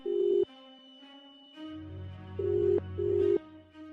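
An electronic telephone ringing tone plays during a phone call in a horror story, sounding in short, even, buzzy bursts separated by brief pauses, clear and alone.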